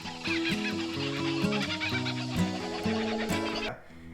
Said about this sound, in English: One of the first things that you notice is the sound of the kookaburra